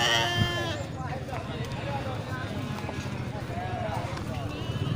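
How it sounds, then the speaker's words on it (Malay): Rams bleat repeatedly at a busy livestock market selling sheep and goats. Nearby voices talk over the animals, with a steady crowd murmur and occasional hoof clatter underneath. "banyak domba jantan ya"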